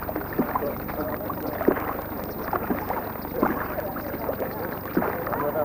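Racing canoes paddled in a competition, with rhythmic splashing and water strokes heard at moderate distance, mixed with faint wind and murmuring voices in the background.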